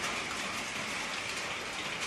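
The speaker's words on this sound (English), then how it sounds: "So we get to hear the rain on the tin roof." Steady, dense patter of rain drumming on a tin roof of an open restaurant, a continuous hiss with no pauses and no voices.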